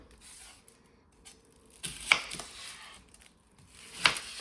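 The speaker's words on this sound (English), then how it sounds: "We're going to chop up this onion." A knife chopping an onion on a board for Brunswick stew, giving a few quiet, scattered cuts with two sharper chops standing out, separated by stretches of near silence.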